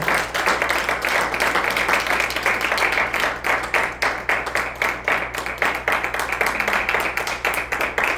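A congregation at a Spanish-language church service gives sustained rhythmic applause, with dense, even clapping that keeps a steady beat for several seconds, loud and close throughout.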